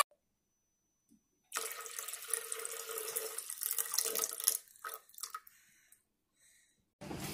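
Water pours into a glass jar in a steady, fairly loud splashing run for about three seconds, then trails off into a few sparse trickles and drips before a short burst returns near the end.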